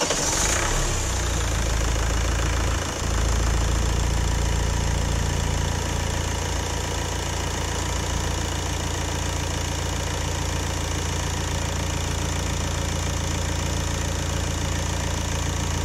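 A warmed-up Renault Laguna II 2.0 dCi diesel engine, just back together after oil pump repair, idles steadily and close, with a constant clattering diesel rattle and no talk over it.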